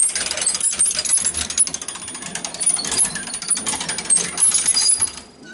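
A souvenir coin press machine at Epcot, Disney World, is cranked by hand, giving a loud, rapid ratcheting clatter of gears and mechanism that runs continuously before easing off at the end.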